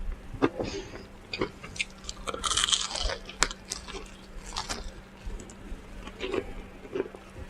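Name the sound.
crunching while eating KFC fried chicken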